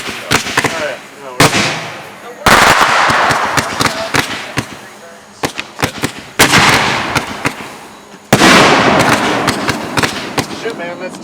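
A backyard fireworks rack fires mortar shells at a family show: several loud, sharp bursts arrive in irregular succession, each followed by crackling and hissing decay. Voices can be heard between the blasts.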